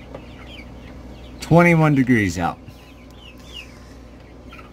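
Chickens cluck outdoors in bitter cold and one bird lets out a loud, short crowing call. Quieter clucks and bird chatter sit under a man's nearby speech.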